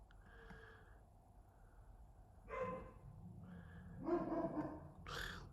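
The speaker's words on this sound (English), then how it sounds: "What are they barking at?" Dogs let out a few separate bursts of barking and yipping, with quieter sniffing and whimpering between them. The barks are moderately distant and come alone in an otherwise quiet room.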